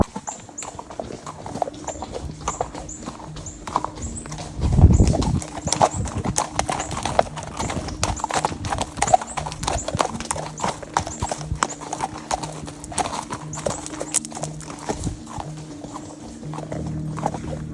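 Hooves of a ridden horse clip-clop in a steady walking rhythm through the Osage Nation in Oklahoma, close and clear, with a brief louder thump partway through and no talk.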